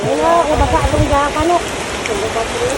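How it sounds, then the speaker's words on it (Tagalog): Rain falls on a farm field as a steady hiss of drops under people talking and laughing nearby. "konti na lang umulan pa ayan tuloy basa na kami"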